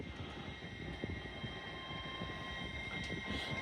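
A Hull Trains class 802 passenger unit, the London King's Cross to Hull Paragon service, runs through Doncaster station on the East Coast Main Line with a faint, steady rumble and a soft tonal hum at a distance.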